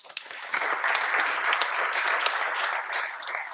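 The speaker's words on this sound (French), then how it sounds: "On vous applaudit." Applause from an audience at a French panel event, rising after a quiet start into a sustained, even wash of clapping that carries on to the end at moderate volume.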